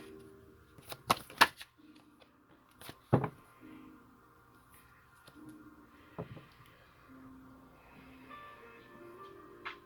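Tarot cards are shuffled and one is drawn, giving a few sharp riffle and slap bursts followed by softer scattered card handling at close range.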